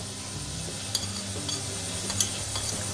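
Powdered spices (coriander, turmeric and chili) are stirred into a cooking pot of hot water. The sound is a quiet, continuous scraping and stirring with a couple of faint clinks against the pot.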